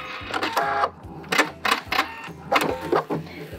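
Sewing machine back stitching an oven mitt, rapid mechanical chatter in several short runs separated by brief pauses, close and clear with no talk.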